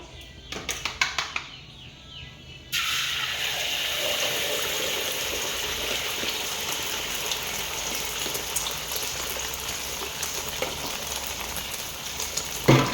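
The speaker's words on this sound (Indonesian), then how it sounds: "ini kita buat telur dadarnya ya" An omelette fries in a pan: a sharp, steady sizzling hiss begins after a few quiet seconds with light clatter, then continues evenly close by until the end, with small crackling peaks.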